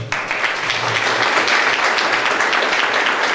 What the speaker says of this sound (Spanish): Démosle un fuerte aplauso, por favor, a Nicole Nardi, que viene de Italia.